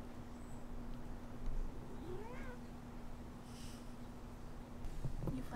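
A cat meows once near the middle, a short rising call in an outdoor setting, with a faint steady hum underneath and a soft rustle near the end.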